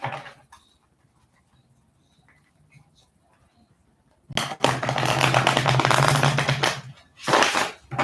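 Oracle cards are shuffled close by in rapid riffling bursts, one long flurry and then a shorter one, after a quiet opening with a little faint handling.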